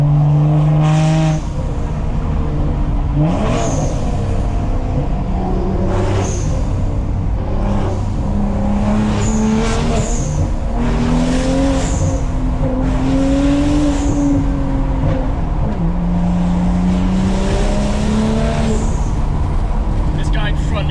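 A 420 HP BMW accelerating hard on a road, its engine note climbing in repeated rising sweeps as it shifts through gears, loud and close throughout with some talk over it.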